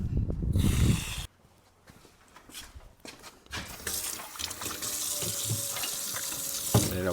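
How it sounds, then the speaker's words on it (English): Water runs from outdoor spigots and hoses on an off-grid solar well system. It starts with a few gurgling bursts and turns into a steady, hissing rush that carries on to the end. "we're running all the spigots. Outside faucets."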